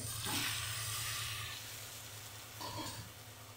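Chopped tomatoes dropped into a hot pan for a spicy tomato chutney, with a close, bright sizzle that flares twice, with a hissing burst, then a second surge with stirring, and settles into a softer steady frying hiss between.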